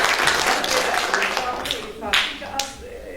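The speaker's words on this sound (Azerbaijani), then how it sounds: "Bir daha əllərini alqışlayaq." Audience clapping at a talent academy event in Gədəbəy, a dense broadband patter of many hands that rises and falls, with a few sharper claps near the end and voices mixed in underneath.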